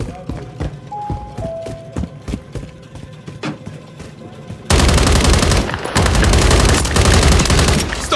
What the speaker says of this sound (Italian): Mi sparano addosso!